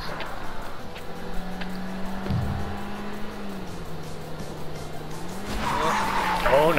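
A car drives and skids in the video game Judgement, with a steady engine drone and shifting tire squeal that grows louder and harsher near the end, while people talk over it.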